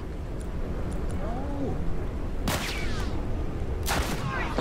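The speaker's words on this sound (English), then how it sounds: "Who's shooting me?" Gunfire in The Last of Us Factions multiplayer game: two sharp, cracking shots ring out a little over a second apart against a constant background wash, with faint whistling tones in between.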